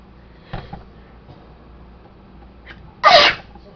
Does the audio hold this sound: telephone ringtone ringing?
no